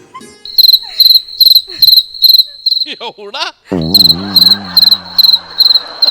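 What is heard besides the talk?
cricket chirping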